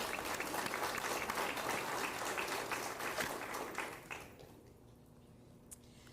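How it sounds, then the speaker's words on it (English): An audience at a school district meeting claps in sustained applause for several seconds, dense and steady, then quickly dies away into room quiet. "Let's give them a round of applause because it did take a lot of work."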